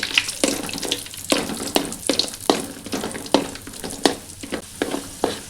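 Cashews and raisins frying in ghee for rava laddu, a close crackling sizzle punctuated by sharp, repeated scraping and stirring strokes against the pan, with no voices.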